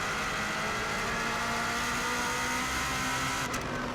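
Rally car engine on a lap of the Isle of Man course, a continuous loud, strained howl with a steady pitch, heard up close with no talk.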